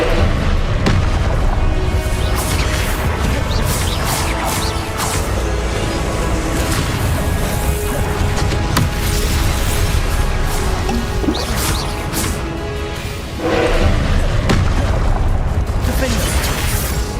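Fire spells go off in loud explosive bursts in Hogwarts Legacy, with crashes and booms over dense combat noise while a voice talks.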